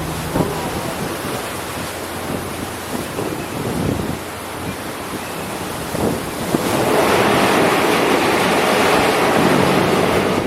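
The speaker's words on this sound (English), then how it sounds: "The weather was very breezy that afternoon." Wind and waves at sea while a cruise ship lies at anchor off Naxos island, a blustery roar of gusts over the microphone and breaking surf that swells louder in the second half.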